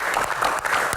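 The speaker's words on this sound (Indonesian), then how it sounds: "tepuk tangan untuk Pak Muhadjir" A live Q&A audience applauds Pak Muhadjir with a brief burst of fairly close clapping, individual claps audible within the short, moderately loud patter.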